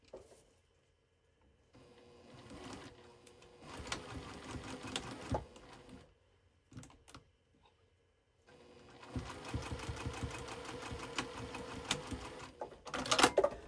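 A sewing machine stitches a proud quarter-inch seam on a small fabric basket, its fast mechanical whir running in bursts with short pauses between, close and steady, with a few light clicks at the end.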